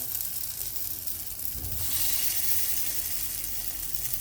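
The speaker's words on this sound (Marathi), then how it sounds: "आपे टाकून घेऊ आता थोडं रिकामं ठेवायचं म्हणजे फुगायला त्याला जागा" Batter made from sprouted green mung beans fries in an appe pan with a close, steady crackling sizzle that swells louder partway through and then stays even.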